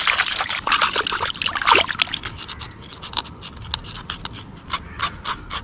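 Cleaned snakehead fish is dipped and rubbed in water close up, making splashy trickles and a run of brief wet slaps and drips that grow sparser and quieter.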